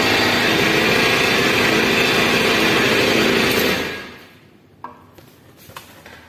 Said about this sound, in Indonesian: motornya sudah hidup